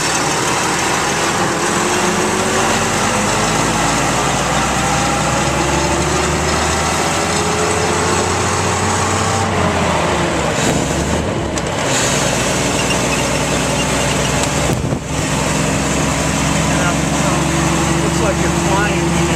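A 1921 Paige car's engine runs steadily while the car is driven, a loud, continuous mechanical drone whose pitch rises and falls gently with the road speed.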